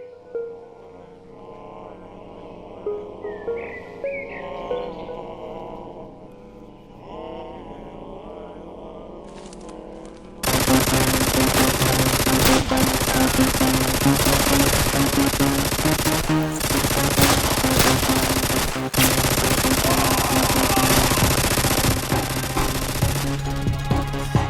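Machine gun fire in a video game: a quieter stretch of game sound gives way to loud, dense sustained automatic bursts that continue with brief breaks to the end.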